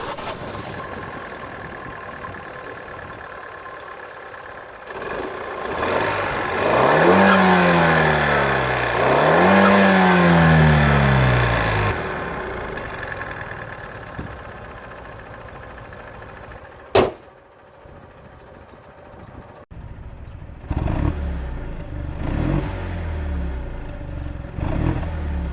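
Fiat Panda 4x4 Cross with a 0.9-litre TwinAir two-cylinder turbo petrol engine of 85 hp runs nearby, swelling through two revving surges mid-clip, then settling into a steady engine hum after a sharp click.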